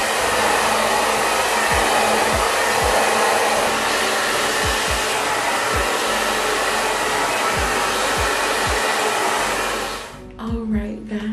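A hair dryer blows continuously at close range, a loud steady whooshing drone with faint low thumps and shifts as it moves through the hair, then switches off near the end, leaving a few soft handling noises.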